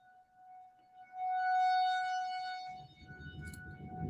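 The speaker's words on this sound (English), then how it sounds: "Y'all let me know if that how loud that is, that siren is." A steady tornado warning siren wails in a sustained tone, swelling louder then easing, with rustling and wind noise nearby toward the end.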